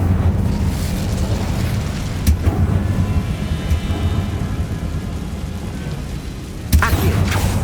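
Incendio fire spell in Hogwarts Legacy, a loud sustained roaring rumble of flame with a burst near the start and another blast near the end, dense and constant throughout.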